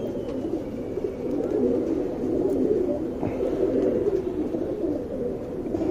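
A nervous Rekhadar male pigeon gives soft, steady cooing that rumbles through the full six seconds at a fairly even, moderate level, with no talking.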